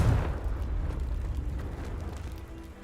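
Confringo blasting spell explosion in the video game Hogwarts Legacy: a single heavy burst at the start that rolls into a rumbling, fading roar.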